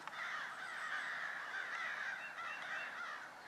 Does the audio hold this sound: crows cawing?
yes